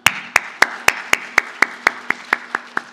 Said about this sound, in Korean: 우리 어머니들을 위해서 박수 한번 치시기를.